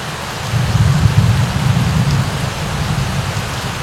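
Steady rain falling outdoors near a fishing spot, a dense continuous hiss with a low rumbling undertone, loud and constant throughout with no talking.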